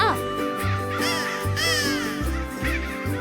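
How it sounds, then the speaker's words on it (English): Crows answering a blown crow call on a frozen hillside, a series of harsh, rhythmic caws repeating loudly and close, layered over a steady background. "The crows call back at me"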